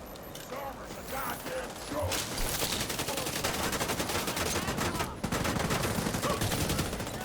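Grenadiers firing SMGs in a video game: dense, continuous automatic gunfire rattling without pause, loud and close, building slightly and holding a steady barrage with a short break near the end.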